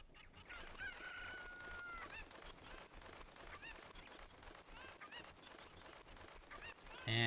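Cucco chickens in The Legend of Zelda: Ocarina of Time crow repeatedly, shrill and drawn out, over loud, busy game sound playing from a TV, ending in a sudden louder burst.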